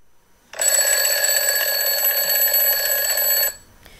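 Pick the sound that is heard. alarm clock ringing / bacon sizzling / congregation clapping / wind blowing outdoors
alarm clock ringing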